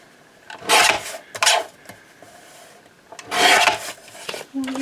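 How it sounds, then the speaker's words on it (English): Paper for a junk journal pocket is trimmed in a few short rasping passes, close and distinct bursts separated by quiet gaps, with light handling rustles between. "Let's trim that one down."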